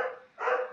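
A dog barks in the background during a tabletop board game, giving two short, loud bursts split by a brief dip, with no talk over them.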